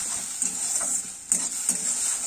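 Rice for payesh is fried in a pan, with a bright continuous hiss and a few quick scraping stir strokes, close and alone for a couple of seconds.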